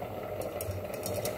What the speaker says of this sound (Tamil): சாதம் கொதிக்குது